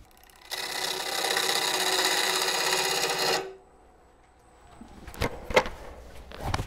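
A turning tool cuts the top off a nut set into a live-edge wood bowl on a lathe, giving a steady, loud grinding rasp for about three seconds that then stops, followed by a few sharp knocks and scrapes.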